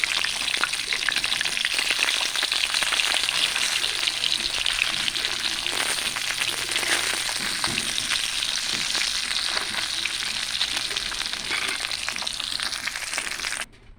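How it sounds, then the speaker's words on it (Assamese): Fish pieces shallow-fry in a pan for a home lunch, a dense, loud, continuous sizzle and spatter running unbroken for the whole stretch before cutting off abruptly at the end, with no voices. "মাছখিনি প্ৰায় হৈয়ে গৈছে আৰু অলপ সময় থাকিলে হৈ যাব এইখিনি ভাজা।"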